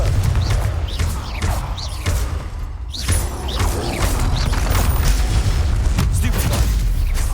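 Confringo blasting spells explode in Hogwarts Legacy gameplay as repeated heavy booms and thuds, loud and dense, layered with whooshing spell effects and game voices.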